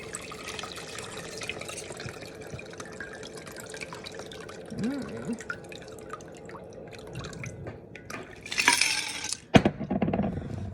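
Martini being poured into a martini glass at home, heard as faint drips and a thin liquid trickle, followed near the end by a brighter clink and splash against glass.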